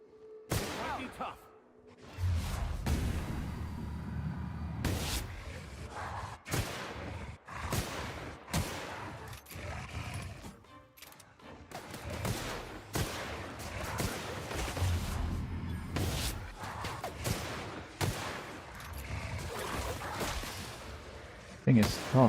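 Gunfire in the video game The Outer Worlds on Supernova difficulty, repeated sharp shots and bursts with thumps scattered through combat, heard under someone talking.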